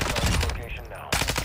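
Rapid bursts of automatic gunfire crackle in a Call of Duty DMZ match, a dense volley broken by a short pause before firing resumes, with a voice mixed in underneath.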